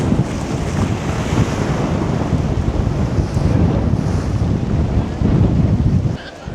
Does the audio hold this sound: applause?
no